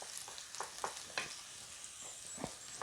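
Mushrooms sauté beside potatoes on a Ninja Foodi cooking surface, giving a quiet, steady sizzle with soft intermittent scrapes and taps of stirring.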